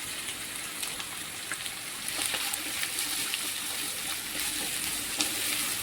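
Onions frying in hot oil with ginger and garlic, a dense crackling sizzle that stays even and close, growing slightly louder midway, with occasional stirring ticks.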